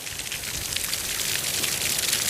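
Lawn sprinkler system spraying water across a residential community lawn after a day of rain, a steady, dense hiss of spray and droplets, continuous and fairly close, no voices.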